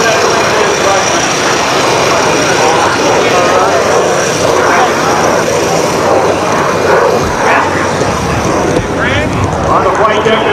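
B-17 bomber Texas Raiders flying with its piston engines giving a loud, continuous rumbling drone close by, and voices faintly mixed into the roar.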